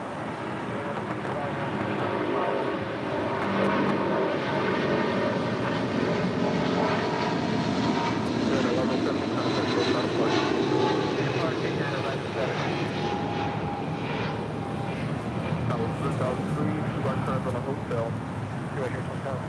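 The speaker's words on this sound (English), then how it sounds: "1170 taking off to Honolulu on a 777-200" A United Airlines Boeing 777-200 takes off from LAX bound for Honolulu, its engines producing a loud, continuous roar that swells and holds throughout, with talk faintly present over it.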